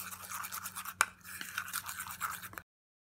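Homemade skin whitening face mask ingredients being stirred together, a close scraping and rubbing of a spoon in a small bowl with one sharp click, continuous for a couple of seconds and then cut off.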